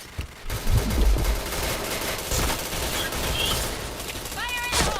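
Heavy gunfire in the shooter game Point Blank, chaining headshots, with dense overlapping shots under continuous battle noise and a few sharper reports, voices talking over the fight.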